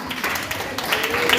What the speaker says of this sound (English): Please clap for her again, please.